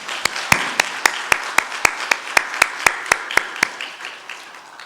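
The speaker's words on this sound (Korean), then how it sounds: "하나님께 영광의 박수를 올려드리겠습니다." At a Christmas church service a congregation claps in unison, about a dozen and a half sharp, evenly spaced claps in a steady rhythm that fade near the end, with no talk over them.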